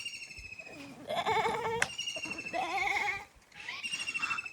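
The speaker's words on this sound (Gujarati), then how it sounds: "જો બકરી આવી ને" Goat bleating on a farm: a series of loud, wavering, nasal bleats close by, one after another with short pauses, over a faint background hum and some distant voices.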